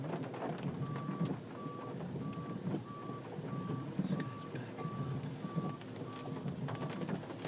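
A truck backing up near a school sounds a regular series of reversing beeps, about ten evenly spaced tones, set against a rumbling engine and background traffic noise, fairly distant.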